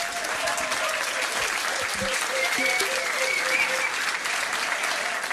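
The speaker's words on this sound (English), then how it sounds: "Give them a round of applause" Applause from the audience at a trivia quiz night at The Yard, a steady wash of clapping filling the room for several seconds, with a few voices faintly mixed in.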